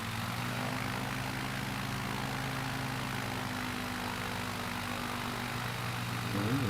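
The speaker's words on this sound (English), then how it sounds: "I'm going to go ahead and take them full and then increase power." A flight-simulator aircraft engine holds a steady propeller drone through a landing approach, with a hum that stays level, fairly quiet and continuous, and a slight rise in power at the very end.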